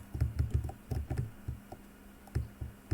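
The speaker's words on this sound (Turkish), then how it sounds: "İsterseniz space ile isterseniz klavyenin yukarı tuşuyla zıplayabiliyorsunuz." Computer keyboard keys, including the space bar and up arrow, are pressed while playing a browser game, giving quick clusters of soft clacking taps with short pauses, close and fairly quiet, with no talk.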